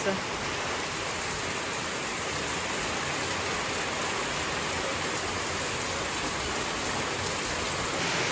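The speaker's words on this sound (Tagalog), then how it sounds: "napakalakas po ng ulan" Heavy rain pours steadily in a dense, unbroken wash of noise during the rainy season, constant and loud throughout with no pauses.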